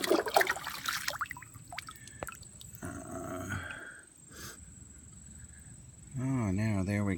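A scoop of water from a backyard pond tub is poured back out into the tub, a trickling, splashing pour in the middle of the clip between bursts of nearby outdoor sound.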